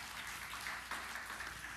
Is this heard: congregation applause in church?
yes